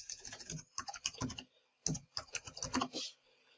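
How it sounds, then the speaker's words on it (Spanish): A username and password are typed on a computer keyboard to log in to a MikroTik router, a run of quick, close key clicks in irregular bursts with a short pause partway through. "Ingresamos usuario y contraseña."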